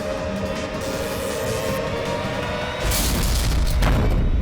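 A heavy boom jolts a lift, a loud low rumble that swells near the end over a steady dark mechanical drone, with no voices.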